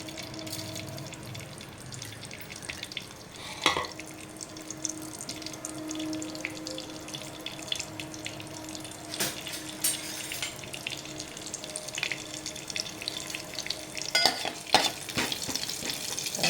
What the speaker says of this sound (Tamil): நல்லா சீரகம் நல்லா பொரியணும்